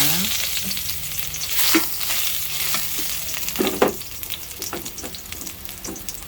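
Ginger stir-fried in a pan for adobong pork, a steady loud sizzle with scraping stirs and occasional clatters of the utensil against the pan.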